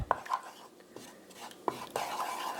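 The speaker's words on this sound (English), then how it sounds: "So I'm giving it a stir first, and I'm going to add my sesame oil after" Beef pad thai noodles are stirred in a hot pan, producing close scraping and clinking of utensil against pan in a few separate strokes, with soft speech around them.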